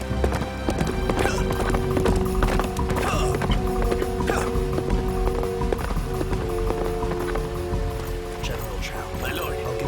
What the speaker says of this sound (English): Prepare a horse for me.